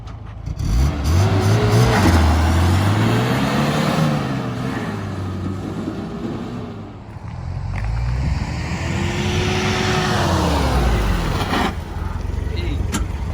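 A 1991 Toyota Hilux 1-ton pickup with a 1.8L 2Y engine and column-shift 5-speed pulling away from a stop, engine revs rising and falling through gear changes, loud from inside the cab.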